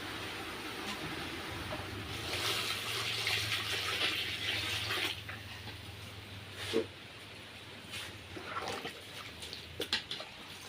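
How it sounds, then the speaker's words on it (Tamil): Water runs steadily into a pot of cooking curry, a broad splashing gush that tapers off, followed by a few light clinks and knocks. "இது கூட வந்து குழம்பு தண்ணியை சேர்த்துக்கலாம்"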